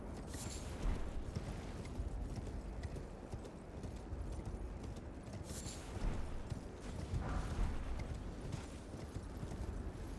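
Horse in a video game trots along with steady, rhythmic clip-clop hoofbeats, moderately quiet and continuous, over a low rumbling game background with an occasional whinny-like accent.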